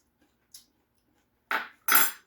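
A small spoon scrapes and scoops raw vegan mushroom walnut "meat", with a faint tap followed by two close, brief scraping strokes and no talking.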